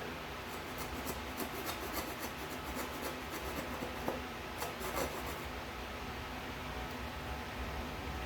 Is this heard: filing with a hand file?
yes